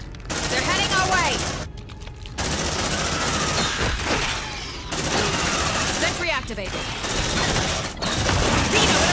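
A deployed sentry gun in Aliens: Dark Descent rattles out long, loud machine-gun bursts with brief pauses between them, while squad voices shout over the firing.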